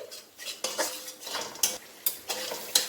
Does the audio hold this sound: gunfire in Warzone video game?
no